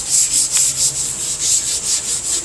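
Rhythmic back-and-forth rubbing of 220 grit sandpaper on a very soft block across a flat muscle car body panel, about nine even strokes, close and fairly loud with no voices.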